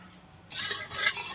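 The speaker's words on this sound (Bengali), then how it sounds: "ঘিটা চারিদিকে ছড়িয়ে নিলাম" Ghee is spread around a pan on the stove, starting halfway through as a soft close sizzle with light scraping after a moment of near quiet.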